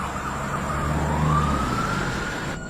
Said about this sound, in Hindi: तब जाकर एम्बुलेंस आई।